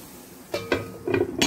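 A lid is set onto a frying pan of zucchini fritters, making a short series of four close metallic clanks and rattles in quick succession.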